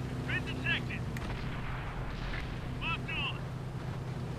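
Tank cannon shots in the console version of World of Tanks: booming blasts with rumbling tails over constant engine and battle noise, and a voice speaking over the action.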